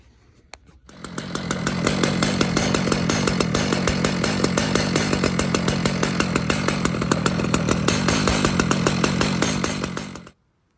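A Stihl 881 chainsaw idles steadily at low RPM for about ten seconds while its high-output oil pump primes. The close, even engine drone starts abruptly and stops sharply near the end.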